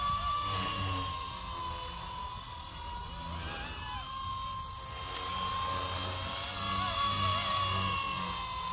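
A Blade 230s RC helicopter with a new ESC runs its motor nearby, giving a steady high whine with whirring rotor tones that rise and fall slightly over a constant drone.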